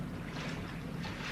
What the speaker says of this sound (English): Definitely diesels.